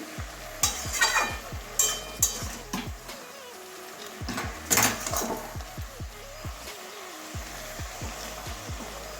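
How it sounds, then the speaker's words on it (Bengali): A spatula scrapes and stirs rohu fish head with gourd leaves, potato and stalks in a pan, giving rhythmic knocks and scrapes over a soft sizzle. "না হলে সব কিছু ভালো করে মিশিয়ে নিচ্ছি"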